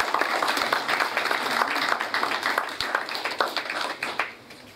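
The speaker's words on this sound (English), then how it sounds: "Round of applause for Jody again." An audience at a blockchain conference in Perth applauds a speaker, a dense roar of clapping that swells and then thins out toward the end, with no voices on top.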